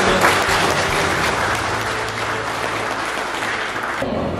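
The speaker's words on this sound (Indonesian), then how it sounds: "Kita kasih aplaus" Audience applause at a police community gathering in Wonosobo, Indonesia, ahead of an election; steady, dense clapping from a crowd fills the whole stretch at moderate loudness, thinning slightly near the end.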